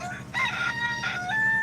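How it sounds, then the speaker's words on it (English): A rooster crows close by, its harsh, drawn-out call sweeping through two quick crowing phrases over a steady low hum in the background. "Stupid rooster made me lose track of thought here."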